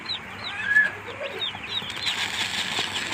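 Tiger chicken chicks cluck and chirp with rustling and wing flapping, a busy cluster of small calls close by that grows denser toward the end.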